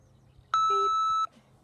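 A single electronic timer beep at the end of a countdown during a CrossFit-style workout, a clean steady tone lasting under a second, close and clear.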